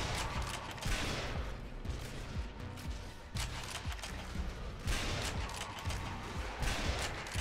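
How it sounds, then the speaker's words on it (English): In the Sniper Elite: Nazi Zombie Army co-op shooter, rapid volleys of gunfire crackle in dense, repeated bursts throughout, with loud clustered shots over a busy game background. "You're just shooting blindly into a crowd."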